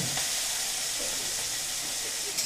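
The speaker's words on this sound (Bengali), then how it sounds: "তেলটা গরম হয়ে গেছে, এবার আমি এর মধ্যে দিয়ে দিচ্ছি নুন হলুদ মাখিয়ে রাখা চিংড়ি মাছ।" Prawns marinated in salt and turmeric sizzle steadily in hot oil in a wok, a loud, continuous hiss that holds for the whole stretch with no talk over it.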